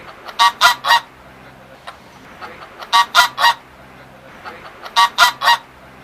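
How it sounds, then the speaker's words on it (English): Geese at an urban farm in Nairobi honk in three loud, close bursts of three or four calls each, with short quiet gaps between the bursts. "Washira also keeps geese."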